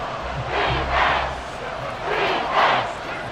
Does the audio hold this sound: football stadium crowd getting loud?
yes